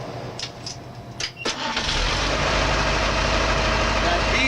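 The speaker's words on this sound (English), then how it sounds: "I'm going to start the truck." A truck's engine cranks with a few short clicks and bursts, then catches and settles into a loud, steady idle for the remaining seconds, close by, during an air brake low pressure signal test.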